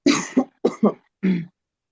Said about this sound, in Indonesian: Maaf ya kalau ini sambil batuk-batuk ya